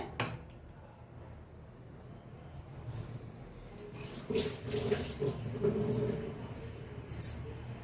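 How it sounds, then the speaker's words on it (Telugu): Water splashes and pours into a container after a quiet start, growing louder midway in a close, irregular trickle, with no talking. "ఈ బౌల్లో వాటర్ పెట్టుకోవాలి"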